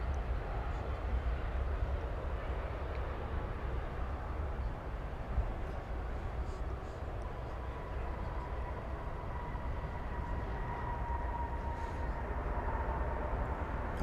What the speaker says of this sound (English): we've got a plane coming in here